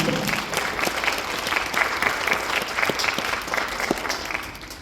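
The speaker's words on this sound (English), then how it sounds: "let's give a round of applause for Christine" Applause from a church congregation at a Sunday service, a steady patter of many hands clapping at moderate distance with no voices over it.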